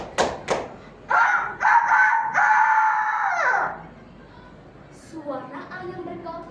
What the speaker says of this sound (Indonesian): suara ayam berkokok membangunkan Mimi dari tidur lelapnya